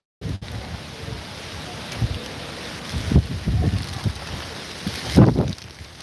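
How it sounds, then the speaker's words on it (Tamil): Heavy rain pours steadily during a flood on the Thenpennai river, a constant hiss and wash with bursts of wind buffeting the microphone, close and fairly loud, with no voices. "மழை வந்து அதிகமாக இருக்கிறது வந்து பார்த்தீங்கன்னா மழை அதிகமாக வந்துகிட்டே இருக்குது."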